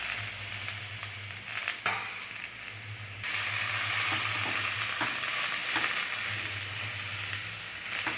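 Vallarai keerai greens sautéing in a pan for chutney, a steady hiss of frying that grows louder partway through, with stirring scrapes over a low tonal hum.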